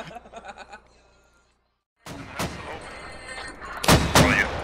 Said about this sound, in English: That was excellent mortar support right there